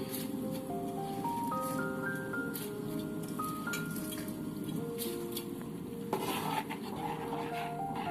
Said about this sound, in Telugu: ఒకసారి కలుపుకొని మూత పెట్టేద్దాం.